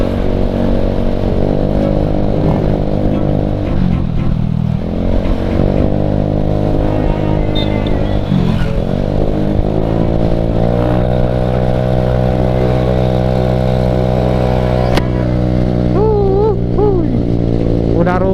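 A motorcycle engine drones steadily and loudly on a touring ride toward Santolo beach along the southern route from Bandung, with a few dips and rises as the rider shifts and accelerates, wind rushing throughout.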